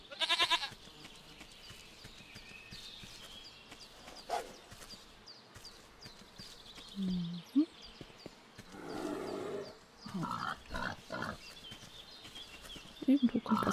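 Goats and sheep in the survival video game Force of Nature give intermittent bleats, a few near and distinct, mixed with other game sounds and occasional voice-like sounds.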